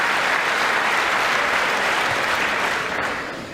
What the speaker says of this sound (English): everybody stands up and claps